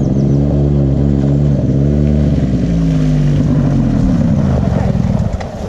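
Quad bike engine revving close by, a sustained loud rumble rising and falling in pitch, with voices speaking over the motor.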